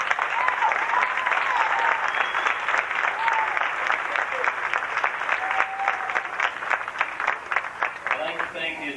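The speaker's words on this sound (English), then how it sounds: "I think they all deserve a real round of applause." Sustained round of applause from a crowd at a 1990 high school football banquet in a VFW hall in Norwich, New York, steady dense clapping for several seconds before tapering off.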